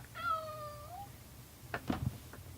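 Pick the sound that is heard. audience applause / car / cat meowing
cat meowing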